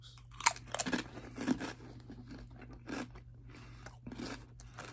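Doritos chips crunched and chewed during a craft break, a run of close, sharp bites and crunches in uneven bursts with pauses between, no talking.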